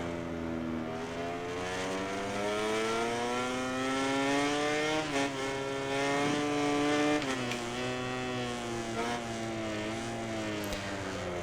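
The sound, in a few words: racing motorcycle engine in MotoGP 19 video game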